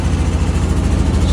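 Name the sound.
2009 Honda Big Red engine starting and running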